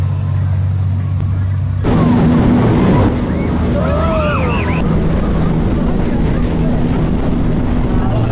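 A powerful jet boat engine roars steadily over water on the West Coast Jet ride in Fremantle, Western Australia, rising louder partway through, with wind buffeting and faint background voices.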